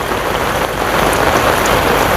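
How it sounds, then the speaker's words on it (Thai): Heavy rain pours steadily onto surfaces in a close, unbroken hiss with scattered drop patter and no talking. "ฝนอากาศเนาะ"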